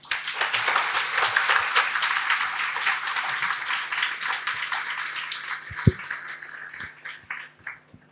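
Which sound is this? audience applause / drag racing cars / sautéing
audience applause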